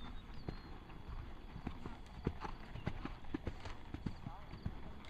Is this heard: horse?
yes